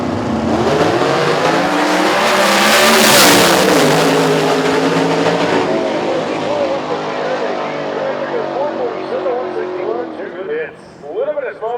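A nitrous-equipped radial drag racing car roars down the strip at a final qualifying event, a loud continuous engine howl rising in pitch and then fading as it pulls away, with a commentator talking over it.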